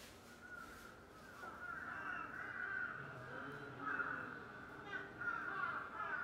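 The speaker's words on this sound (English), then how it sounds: "so it's a crow" A crow caws several times at a moderate distance, harsh repeated calls rising over faint background chatter.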